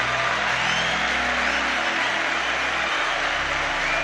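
A large crowd claps and cheers for the police in steady, dense applause that holds at full level from start to finish, with no pauses.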